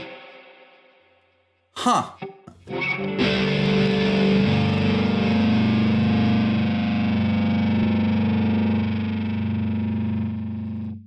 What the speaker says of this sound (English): There's reverb on the amp.